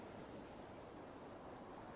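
Ocean waves breaking on a sandy shore, heard as a steady, continuous wash of broadband surf noise with no distinct individual crashes, rolling on alone without any voices.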